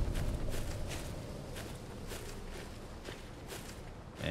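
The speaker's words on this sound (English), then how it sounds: "Footsteps are weird. They sound like they're behind me." Footsteps in the horror video game Husk, a soft steady run of steps under a low ambient rumble, fairly quiet and evenly paced.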